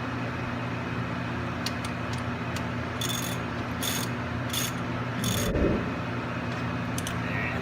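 Ratchet tightening a rear brake bolt on a 2013 Dodge Charger, a series of short clicking bursts over a steady background hum, with a muffled thud near the end.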